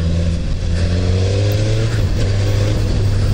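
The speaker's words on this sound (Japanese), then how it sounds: "まあ 1000cc あるんでね、やっぱり S1000 音するな" A Suzuki GSX-S1000F 1000cc sport motorcycle engine drones loudly and close during a test ride, its pitch climbing steadily as it accelerates, with rushing wind noise throughout.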